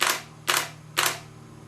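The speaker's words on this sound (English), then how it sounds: "one of the first things you'll notice when you start using this camera is its pretty unique shutter release sound" A Canon EOS 40D digital SLR fires its shutter three times at an even pace, each release a sharp, close, loud mechanical snap with a short whirring tail, alone without talk.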